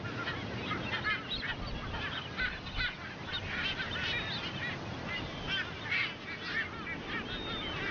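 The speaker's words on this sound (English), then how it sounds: "They are Ascension Island frigates, found nowhere else on Earth." Ascension Island frigatebirds call from a small offshore island colony, a dense chorus of overlapping honking and cackling cries, moderately near and continuous over a rough background, with no talk.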